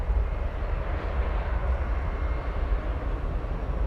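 A Martinair cargo jet taxiing at DFW Airport gives a steady, loud low rumble with a broad hiss above it, holding even and unbroken without any pause.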